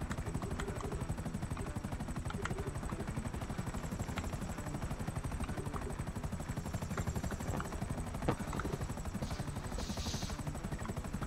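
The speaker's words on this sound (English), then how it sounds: "because I changed what my personal vehicle was to the helicopter so I could go pick everybody up" An Akula helicopter in GTA Online flies with a loud, steady rotor thrum and rhythmic chop throughout, with brief bursts of gunfire-like clicks in the mix and no talk.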